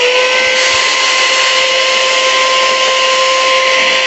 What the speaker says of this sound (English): Alright, just use a little portable vacuum here.